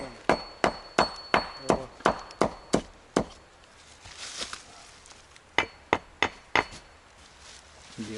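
A stone is driven into mortar while building a wall, struck with a quick series of sharp, evenly spaced knocks, then a pause with a brief voice, then more blows, close by.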